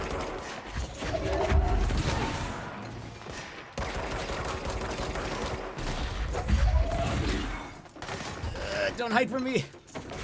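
Gunfire in the video game Control, rapid bursts of shots and booming impacts coming in waves, loud and close, with a player's voice briefly talking over the firefight.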